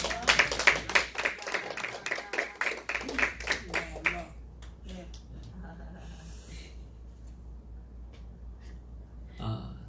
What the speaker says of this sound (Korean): 환영의 박수 올려드립니다